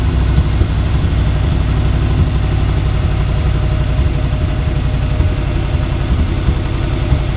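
A Ferrari 308 engine idles steadily while its carburetors are being tuned, a loud, continuous low rumble with an even pulsing throb and no pauses.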